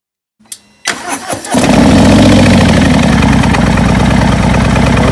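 A 2018 Harley-Davidson Fat Boy motorcycle with an aftermarket exhaust cranks briefly with a few sputters, then fires up and settles into a loud, steady, rumbling idle close by.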